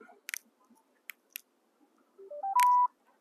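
A few soft clicks, then a short rising series of electronic beeps ending in a longer held tone, quiet and close, as a Sena motorcycle helmet intercom powers on.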